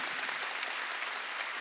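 A church congregation at a Sunday worship service breaks into brief, steady applause, a dense wash of clapping heard from within the room for under two seconds.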